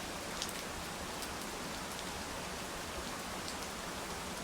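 Steady, even rainfall hisses without pause, a soft, dense wash of drops with occasional faint patters and no voices.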